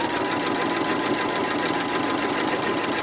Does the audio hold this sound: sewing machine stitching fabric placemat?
yes